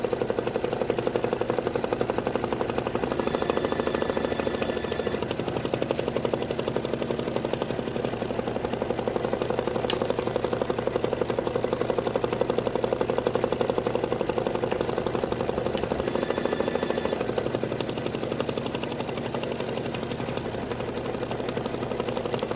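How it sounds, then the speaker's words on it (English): An embroidery sewing machine stitches a bench pillow with a continuous, even mechanical hum and rapid needle chatter, close and steady, with faint tonal whines at times and no voices. "And this is 7 minutes of stitching."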